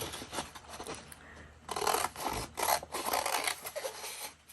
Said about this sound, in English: I am actually going to cut out around the calendar.